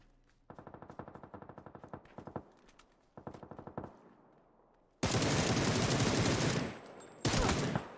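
Automatic gunfire in a video game scrim: rapid bursts of close shots in several stretches, followed by a louder, denser barrage of continuous fire near the end.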